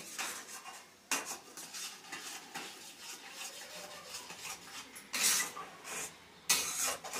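Ginger syrup cooked down in a pot is stirred with a utensil, giving soft, continuous scraping against the metal with a few louder clanks, close and fairly quiet, with no talk.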